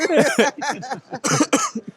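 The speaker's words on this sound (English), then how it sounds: "He coughed that out." A few harsh coughs close up, bursting out in quick succession with short pauses between them.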